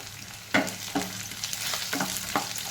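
Four large garlic cloves and browned onions frying in a pan for a spicy onion-tomato chutney, a steady sizzle punctuated by several sharp spoon scrapes and stirs, close up.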